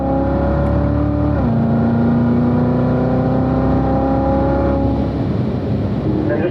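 Corvette on a driving-school track, engine note dipping as the driver eases off, then a steady sustained drone building again as the throttle comes back on, loud and continuous with no talk over it.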